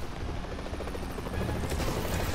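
Helicopter in the video game Marvel's Spider-Man, a continuous whirring rotor drone filling the scene loudly, with no one speaking over it.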